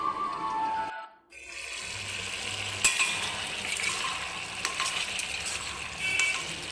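Bottle gourd simmering in its own water in a covered pan, giving a steady soft sizzle and bubbling throughout with occasional light clinks of the lid or utensil; no talking.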